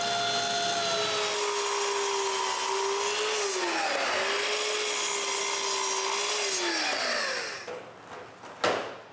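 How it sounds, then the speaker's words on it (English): Power saw ripping 3-inch wood strips for a torsion box shelf, loud and steady for about seven seconds with a rising and falling whine as the blade loads, then cutting off and spinning down into quiet. "So I need to cut a bunch of 3-inch strips."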